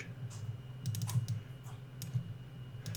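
Mouse clicks while selecting edges on a head model during UV work in 3D software, a few light quick clicks over a steady low hum, close and fairly quiet with no talking.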